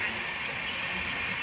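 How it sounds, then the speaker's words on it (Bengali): Passenger express train running on the tracks near Moradabad Junction, a steady broadband rumble and hiss heard close up from inside, with faint voices underneath. "ট্রেন যাচ্ছে আমাদের"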